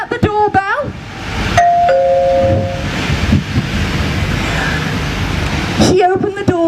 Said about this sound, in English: King said, Queenie, was that the doorbell?